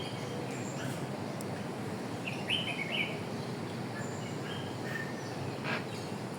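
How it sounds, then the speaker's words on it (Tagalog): A parrot calls at a zoological and botanical garden in Hong Kong: faint, scattered chirps and short squawks over a steady wash of distant outdoor ambience. "Parrot."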